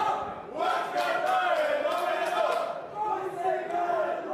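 A crowd at a poker final table chanting in rhythm with a few louder bursts of cheering, moderately close and continuous, with voices rising and falling together.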